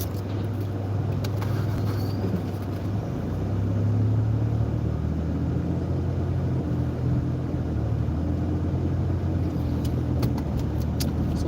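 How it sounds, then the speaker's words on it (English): Steady engine rumble and road noise from a car crawling through heavy traffic, loud and continuous throughout with no talking. "It's a lot of traffic right now."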